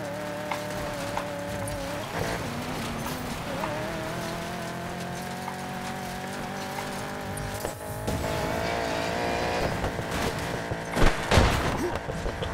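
A race car engine in Need for Speed Payback revs and drops as it upshifts and downshifts, a loud continuous whine with pitch sweeps and a burst of tire and impact noise near the end.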